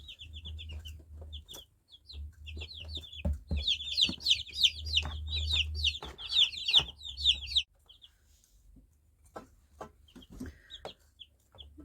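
Day-old white broiler chicks cheep in a rapid, high chorus of peeps near the start and middle, over a low steady hum, thinning to scattered chirps and soft clicks toward the end.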